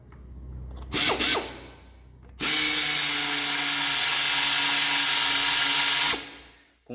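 A power tapping machine threads a through hole in a lubricated workpiece with a machine tap: brief clunks first, then a loud, steady whirring run that stops abruptly.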